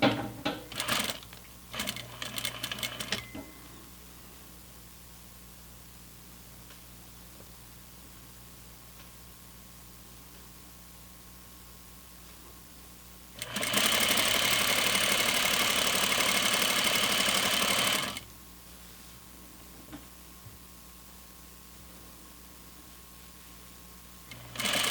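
A sewing machine stitches a seam on flannel pajama pants in short bursts at first, then runs one steady loud whirring stretch of several seconds after a quiet pause, with faint hum between, no talking.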